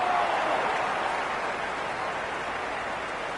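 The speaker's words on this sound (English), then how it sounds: "It's evident and ever so audible that the crowd is at near bursting point at today's play." Stadium crowd in the Cricket 26 video game, a steady dense roar of cheering and applause that holds at an even, loud level throughout with no distinct voices.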